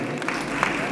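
An audience at a music event in Kerala applauds a singer, a brief, steady burst of many hands clapping at moderate distance.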